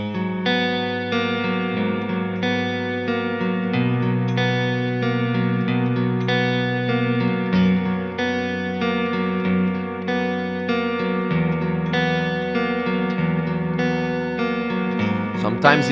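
Electric guitar playing a motif in a chord style, with arpeggiated chord tones over shifting bass notes; a steady, effect-laden, reverberant clean tone repeating its pattern continuously without speech.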